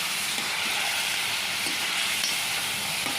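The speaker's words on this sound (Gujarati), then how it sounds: "અહીંયા પનીર તળાય છે થોડીક વાર તળી લઈએ" Steady, close sizzling of paneer frying in hot oil in a pan, a dense hiss with faint crackles throughout and no voices.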